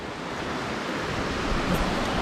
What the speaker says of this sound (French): juste là, on a la cascade qui descend et un autre bassin plus bas